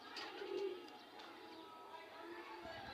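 Pigeon squabs in a home loft coo softly a few times, close and faint, in a quiet room.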